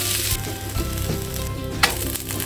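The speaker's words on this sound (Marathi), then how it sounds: "गॅसची फ्लेम मिडियम टू लो ठेवली आहे आता हे परतून घ्यायचं" Amboli batter with vegetables sizzles in a pan over a medium-to-low flame, a steady close frying hiss with a few soft scraping stirs and one brief sharp click.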